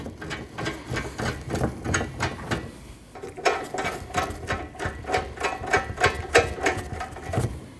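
Studs for the AC lines being threaded by hand into a 2013-2019 Ford Escape 1.5L during condenser and receiver drier replacement: close, rhythmic ratchet-like mechanical clicking that runs steadily throughout, with no talking.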